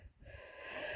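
A person with a nasty cold draws a short, raspy, wheezing breath that rises into a strained gasp, close and quiet.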